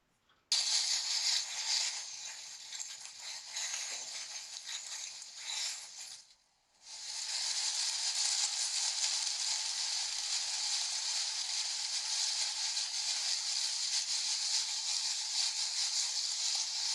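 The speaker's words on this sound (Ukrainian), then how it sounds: "це шелест осіннього листя" Steady dry crackling rustle of autumn leaves, continuous and close, with a brief pause partway through before resuming.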